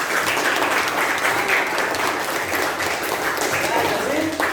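Schoolchildren in a classroom clap for a classmate, a brief burst of dense, lively applause at close range with voices mixed in.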